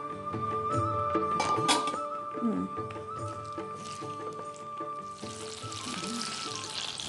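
Chana dal and urad dal fry in hot oil, a steady crackling sizzle running underneath people talking in a busy kitchen, with a tonal hum and a brighter hiss swelling near the end.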